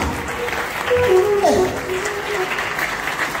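Congregation at a church service in a packed stadium applauding and cheering together, a steady wash of clapping and crowd noise that rises briefly in the middle, with a faint voice over it.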